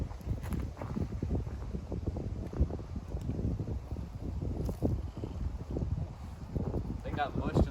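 Gusty wind buffets the microphone outdoors on a disc golf course, a constant rustling roar in the background while people talk.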